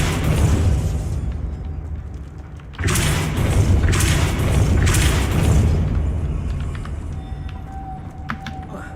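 Heavy magical blast from a Depulso spell in the video game Hogwarts Legacy, a deep booming burst that swells in after a quieter stretch and rumbles on for several seconds before tapering, with faint clicks near the end.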